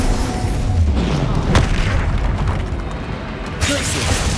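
Booming spell blasts in Hogwarts Legacy, loud bursts and crackling impacts in quick succession, with a voice calling out between them.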